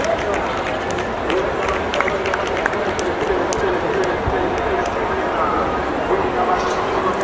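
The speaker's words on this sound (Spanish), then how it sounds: "El aplauso de todos ustedes." Audience applause at a folk ballet performance in Papantla, a dense, steady wash of many hands clapping with crowd noise mixed in, sustained and fairly loud throughout.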